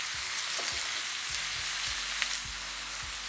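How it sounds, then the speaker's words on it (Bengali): Sliced onions, 250 grams of them, frying in oil in a pan, giving an even, dense sizzle with soft bubbling crackle, close and unbroken, no voices present. "যেটাকে আমি ততক্ষণ ফ্রাই করব যতক্ষণ এটা একদম ব্রাউন হয়ে আসছে।"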